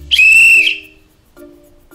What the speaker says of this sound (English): Basically, everything you do will require the whistle in one way or another.